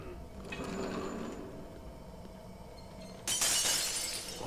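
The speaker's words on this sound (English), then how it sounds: "Glass break." Glass shattering in The Evil Within video game, a sudden bright crash arriving near the end over a quiet, murky game ambience.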